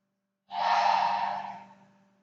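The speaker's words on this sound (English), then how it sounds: "So we're filling the lungs as we breathe in." A single deep breath during a guided breathing exercise, heard as one slow, close, airy exhale that starts abruptly and fades gradually over about two seconds, with no talking.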